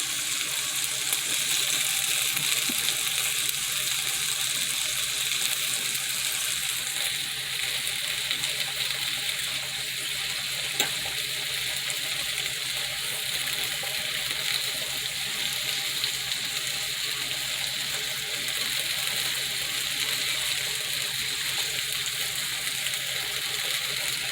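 Green beans cooking in butter in a pan give a steady, close sizzle with a bright hiss that holds at an even level throughout, broken only by a faint tick or two.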